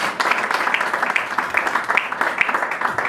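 Church congregation applauding during worship, dense steady clapping from many hands, moderately loud and continuous with faint voices mixed in.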